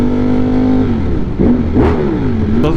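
A 200+ HP motorcycle engine revving up through gears close by, a loud rising tone that drops at shifts and climbs again over a short burst of acceleration.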